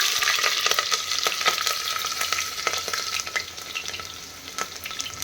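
Sliced onions fry in hot oil with cumin, bay leaves and dried red chillies for a chicken dish, a steady close sizzle broken by scattered crackles and spatula scrapes from stirring, alone without any voices.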